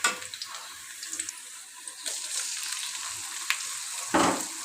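Prawns with raw spices, garlic, cumin, chili and turmeric, frying in a pan for a pumpkin curry, a steady close sizzle with brief stirring scrapes and a louder burst near the end, no talking.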